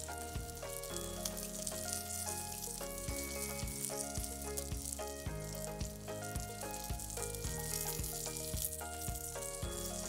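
Prime rib searing on a Big Green Egg grill gives off a loud, continuous sizzle and crackle that holds steady throughout, with faint tonal sounds in the background and no talking.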